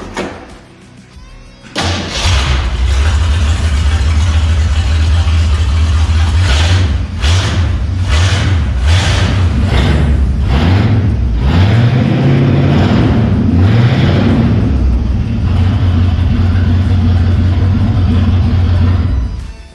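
A 1968 Ford Mustang V8 starts with a burst after a quiet moment, then settles into a loud, lumpy idle nearby, with a few blips of the throttle partway through.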